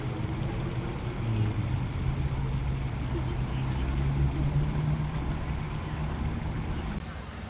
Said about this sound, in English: noise coming from traffic, people, and some of the water behind me